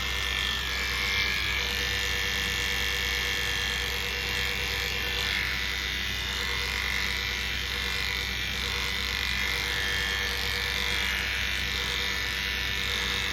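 Electric clippers buzz steadily and close up while shaving down a matted cockapoo, a continuous hum with slight shifts in pitch as the blade works through the coat.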